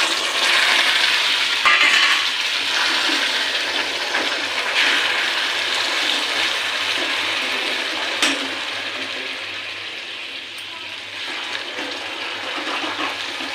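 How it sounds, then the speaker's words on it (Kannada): Water hits a hot pan of melting jaggery and ghee and sets off a loud, continuous rushing hiss and sizzle that holds steady and close throughout. "ನೋಡಿ ಎಷ್ಟು ನೀರು ಹಾಕ್ಕೊಳ್ತೀನಿ"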